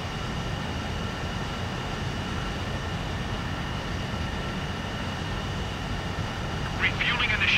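Steady, continuous jet engine roar in a combat flight video game during mid-air refueling, a loud even drone with no break and a brief higher hiss near the end.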